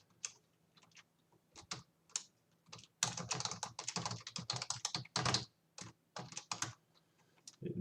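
Code is typed on a computer keyboard in close, quiet bursts of crisp key clicks, sparse at first and then a rapid run of keystrokes before slowing again.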